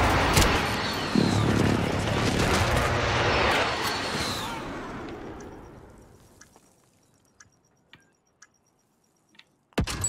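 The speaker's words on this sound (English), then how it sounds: "Be advised, friendly precision airstrike inbound." Precision airstrike in Call of Duty Warzone, a loud rumbling roar of explosions that slowly fades out over several seconds, followed by quiet with scattered faint clicks and ticks.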